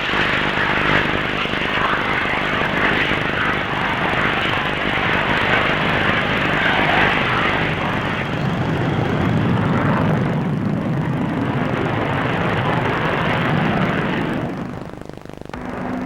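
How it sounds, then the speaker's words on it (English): Hawker Hunter jet on its landing run at the Farnborough air display, engine roaring loud and steady as reverse thrust is applied, the broad rushing noise holding for most of the run before easing off near the end. "The Hunter demonstrated one method, reverse thrust, a method likely to prove invaluable with civil aircraft too."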